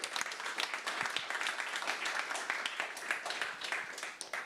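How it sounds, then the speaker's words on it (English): Quiet, continuous crowd applause fills the room at a welcome for an evening event at Talent Garden Vienna, a steady patter of many hands. "Big round of applause."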